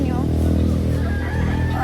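Chickens at a small backyard chicken farm beside a house, prized expensive birds, faint fowl calls mixed into a steady noisy background with voices and crowd murmur over them.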